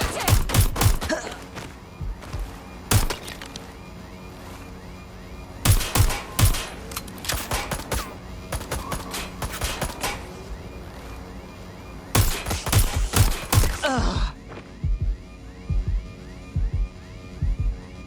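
Bursts of automatic gunfire in Watch Dogs Legion, loud and close, coming in clustered volleys separated by short pauses over a low steady hum, with no talk.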